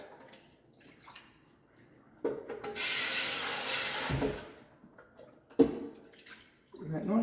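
Tap water rinsing the reservoir of a DeLonghi EVO coffee machine at a sink: a strong rushing pour lasting about two seconds, followed by drips, a clunk and a second short splash.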